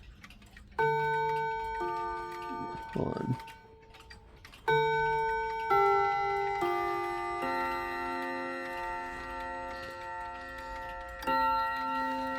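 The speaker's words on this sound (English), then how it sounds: "It's my loudest Westminster chime clock." A loud Westminster chime clock rings out in sustained, overlapping chime notes that swell and decay across several seconds, with steady ticking beneath and a brief spoken remark early on.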